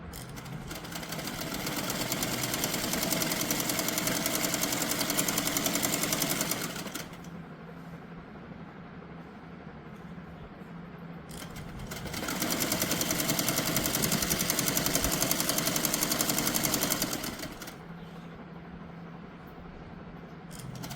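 A sewing machine runs in two long bursts of stitching along the sides of a palazzo pant, each about six seconds, steady and close, with a quieter pause between them.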